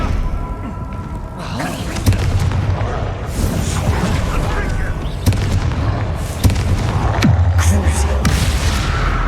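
Blasting spell explosions in the Hogwarts Legacy game, with repeated booming thuds and bursts amid continuous combat noise and music, loud and dense throughout.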